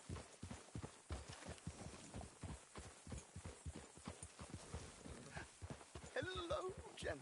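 Horse hooves clip-clop in a steady walking rhythm in Red Dead Redemption 2, close and moderately loud beneath continuous talking, with a brief whinny-like call near the end.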